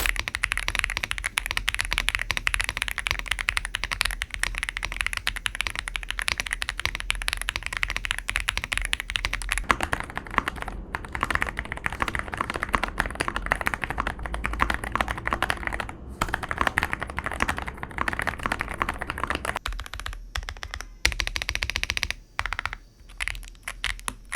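Steady, fast clacking of an Ajazz AK650 mechanical keyboard being typed on, continuous and close, with brief pauses near the end.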